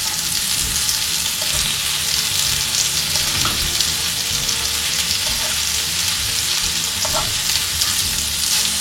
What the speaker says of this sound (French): Il faut les faire bien dorer sur chaque face.